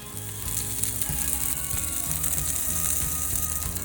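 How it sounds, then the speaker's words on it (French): Meatballs sizzle loudly and steadily in a hot pan, a dense close frying hiss that stays even throughout with no talking. "Puis pendant ce temps-là, on va griller les boulettes."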